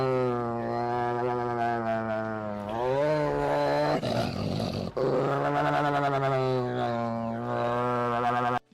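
An angry dog growls and snarls in a long, deep, rumbling stretch that rises and falls like a revving engine, loud and close, with a rougher burst in the middle.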